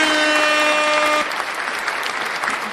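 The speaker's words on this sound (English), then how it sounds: "Give you a round of applause there." Applause-like burst of dense clapping, first under a sustained harmonic tone that cuts off after about a second, then continuing alone at a slightly lower level.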